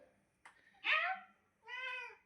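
A house cat gives a single clear meow up close, rising and falling, followed by a second, more drawn-out tonal meow after a short pause, with a small click before the first call.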